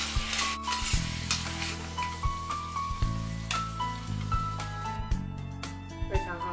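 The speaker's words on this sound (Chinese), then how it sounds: "一点酱油，一点蚝油，最后放一点点鸡精，翻炒均匀即可出锅。" Yam slices stir-fried in a wok with soy sauce and oyster sauce, a steady sizzle under repeated scraping and tossing of the spatula, close and continuous with no talking.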